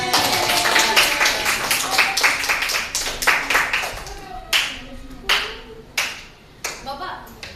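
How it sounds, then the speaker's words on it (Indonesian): A group claps rapidly and unevenly, the applause thinning into scattered separate claps toward the end. "Oke, boleh tepuk tangan."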